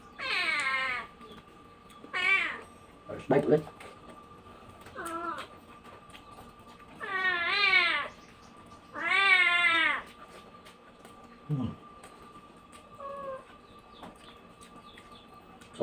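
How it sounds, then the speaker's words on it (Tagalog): A cat meows repeatedly in a home kitchen during a meal, several drawn-out, wavering cries at close range, one after another with short pauses, and a person speaks briefly between them. "Ito mo yung pusa."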